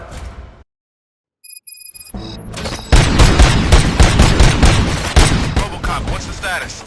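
Gunfire in the video game Robocop Rogue City: after a short silence, rapid bursts of shots and sharp booms erupt loudly and continue in a dense, rattling volley.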